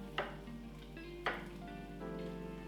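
Onions sizzle quietly in a pot for Japanese curry, a soft steady frying hiss broken by two sharp scrapes of a utensil stirring against the pot.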